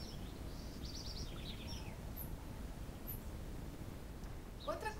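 Small birds chirp faintly in short high bursts over a steady low background hiss, a few scattered calls near the start and a sharper flurry at the end, after nests were cleared from a cabin attic.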